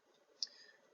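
A single faint, sharp computer mouse click on a GIS map portal, isolated in near silence.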